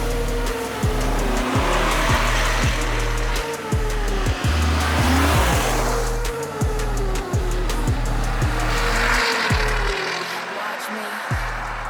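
A 2024 Mercedes-AMG G 63 with quad exhausts launches hard under launch control. The engine roars loudly and close, with rising revs broken by repeated gear-shift dips and some tire noise, and no talk over it.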